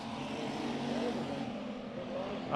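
Dirt track race cars at Bakersfield Speedway roar in a steady, distant engine drone as they slide sideways through a turn, a continuous broadband rumble with a slight swell at the end.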